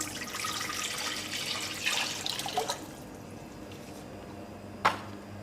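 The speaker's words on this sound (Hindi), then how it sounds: "4 कप पानी डाल दूँगी।" Four cups of water pour in a steady splashing stream into a pot for a few seconds, then stop; a single sharp metallic clink follows in the quiet.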